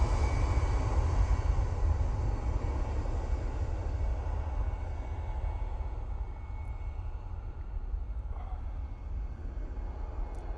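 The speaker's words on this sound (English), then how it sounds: "A319 for Brussels Airlines" Brussels Airlines Airbus A319 passing over near Manchester Airport, a steady broadband roar of jet engines that stays loud and fairly constant throughout, slowly easing toward the end, with no talk.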